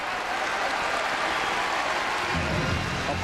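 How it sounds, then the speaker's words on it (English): A basketball arena crowd at a Kansas home game against Iowa State applauds in a broad, steady wash of clapping and cheering, with a voice entering near the end. "Applause for the hustle by KU."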